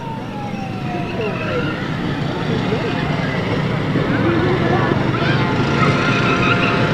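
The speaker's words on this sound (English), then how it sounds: "And these are the Cairo Shriners. Nice looking cars." Shriners' cars rolling past in a Fourth of July parade, a steady engine rumble with a faint siren-like wail over crowd noise, while someone talks over it.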